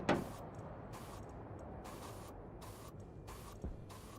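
A spray gun in the game Stationeers releasing a series of short hissing bursts, about seven spaced puffs of spray, fairly faint, with no talk over them.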